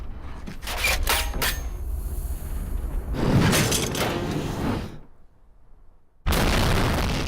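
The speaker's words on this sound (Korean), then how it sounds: "전혀 예상치 못한 거대한 폭발 사고에 휘말리게 됩니다" A huge explosion in a Korean crime film scene bursts out loud with booming, shattering blasts and crackling debris, cuts to near silence, then slams back in with another loud burst.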